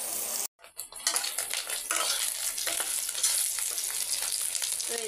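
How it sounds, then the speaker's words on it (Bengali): Eggs frying in a pan on a home kitchen stove, a loud continuous sizzle with occasional scraping and stirring after a brief cut near the start, no voices. "এই যে আমি ডিম ভাজছি।"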